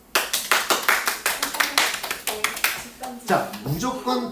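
Students in a Korean high school classroom clap in rhythmic unison, about a dozen sharp close claps in a steady beat, followed by a teacher's voice speaking.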